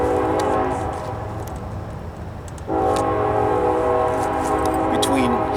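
A Canadian National Railroad train rolls past near the Mississippi River in Louisiana, its horn sounding in long sustained harmonic blasts, fading briefly and then returning loud over the steady rumble of passing cars.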